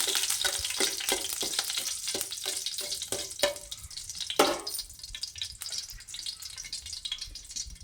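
Cashews and almonds frying in melted ghee in a kadai give off a steady close sizzle, with sharp stirring clatters early on and a brief louder burst midway before the frying settles.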